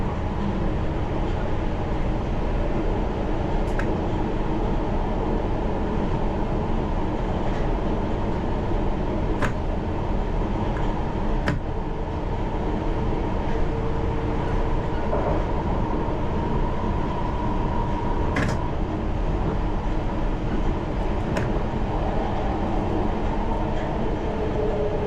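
A London Underground Piccadilly Line train runs through tunnels at a slow restricted speed around bends, giving a loud continuous rumble with a thin high screech and occasional clicks and clanks.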